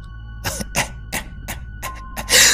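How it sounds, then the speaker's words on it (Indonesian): Loud coughing in a haunted-house horror narration: about seven harsh, separate coughs in an uneven rhythm, each close and sharp, ending in a louder burst. "suara batuk yang kembali terdengar namun dengan lebih keras"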